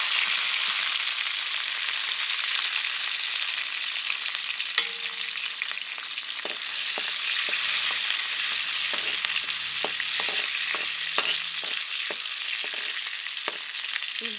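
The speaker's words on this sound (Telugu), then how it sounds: "కరివేపాకు బాగా వేగి, బాగా వేగాయనుకో గోల్డెన్ కలర్లోకి వస్తే మంచి స్మెల్లు." Curry leaves sizzle and crackle in hot oil in a home kitchen, a steady loud hiss with scattered pops and sputters throughout, the frying for a fish and vegetable tamarind-leaf curry.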